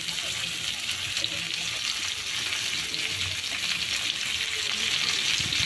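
Shredded cabbage hits a hot pan with potatoes and five-spice seeds and fries with a loud, continuous sizzle and crackle, steady and close throughout.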